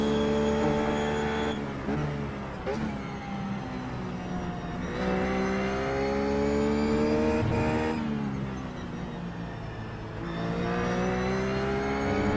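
A Ruf GT3 race car engine lapping Sebring in the iRacing simulator, a loud, steady multi-harmonic drone that climbs through the gears and dips on shifts and braking, continuous for the whole stretch with no talk.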